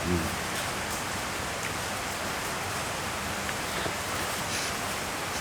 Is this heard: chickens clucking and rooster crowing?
no